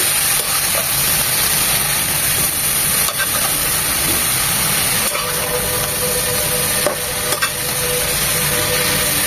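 Greens frying with onion in an oil-filled pan on the stove sizzle steadily while being turned and tossed, with scattered scraping clicks from the spatula and a constant hiss through the whole stretch.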